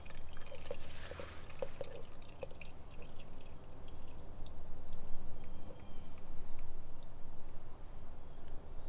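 Dark used engine oil drains from a Mishimoto catch can on a Jeep JL into a plastic Dunkin' Donuts cup, a soft, steady trickle and dribble of liquid that runs close by and fairly quietly throughout.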